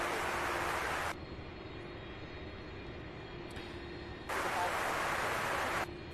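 A Boeing 757 airliner lands in the distance, its engine roar a broad, steady rush that cuts off abruptly, falls to a low hum, then swells back and drops again.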